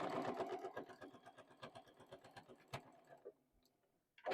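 Sewing machine stitching scrappy fabric binding at close range, a rapid even run of mechanical clatter that slows and stops, followed by near quiet and a short loud bump at the end.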